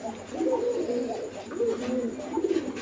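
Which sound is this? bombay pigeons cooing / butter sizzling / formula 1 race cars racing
bombay pigeons cooing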